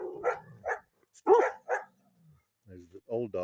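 An old dog barks outdoors on a muddy, wet farm meadow in rain and fog, a few loud close barks in a broken rhythm with gaps between them, and a person speaks toward the end.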